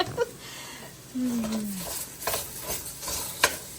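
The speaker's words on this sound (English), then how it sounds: "Here's the sizzle." Ground beef sizzles in a hot pan, a steady crackling hiss with a few louder pops, clattering utensils and a brief voice near the start.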